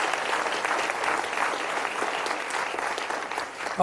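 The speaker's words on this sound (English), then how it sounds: "I think we should give her another round of applause" Steady audience applause at a food policy event, a dense even patter of many hands clapping without pause, moderately loud and continuous throughout.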